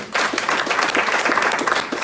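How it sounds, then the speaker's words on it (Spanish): Church congregation applauding during a Spanish-language service, a steady, dense wash of clapping from many hands that fills the whole stretch at even loudness. "Puede dar un fuerte aplauso al Señor."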